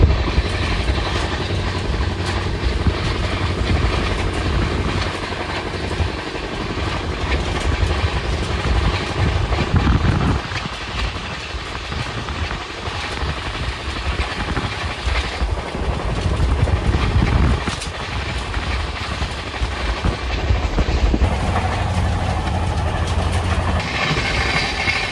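The Shantiniketan Express, a fast express train, runs along the Howrah–Bardhaman chord line, heard from on board as a steady loud rumble and roar with faint rhythmic wheel clatter throughout.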